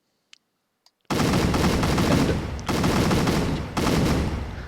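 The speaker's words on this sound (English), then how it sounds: "The next thing we should try out is Swedish Chef's machine gun. It is quite accurate." An ACF machine gun in Garry's Mod fires three long, loud, rapid-fire bursts in close succession after a few faint clicks in near silence.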